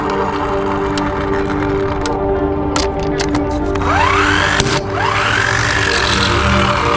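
A TaskStar electric car jack motor lifts a Toyota minitruck with a steady mechanical whine, brief ratcheting clicks and rising, sweeping motor tones close by, with no talking.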